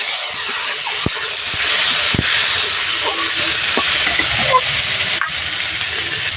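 Chopped tomato hits hot oil tempered with whole cumin and slit green chillies, giving a steady loud broadband sizzle that swells and fades over several seconds, with a few faint utensil clicks and no talking.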